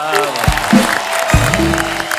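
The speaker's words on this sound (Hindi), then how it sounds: "भाई 2000 तालियां हो जाए हमारे भाई के लिए।" Studio audience applause on the Kapil Sharma comedy show, a dense, continuous clapping wash with a few thumps and tonal music layered through it, loud and close for a couple of seconds.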